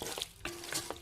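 A spoon stirring aloe vera and minced meat (qeema) in ghee in a pan, a short close scrape over a steady low sizzle.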